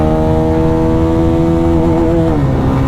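A Yamaha R15 V4 motorcycle in fifth gear chasing a Pulsar 220F at speed, its engine a loud, steady high-revving drone whose pitch sags and then shifts near the end, with no voices over it.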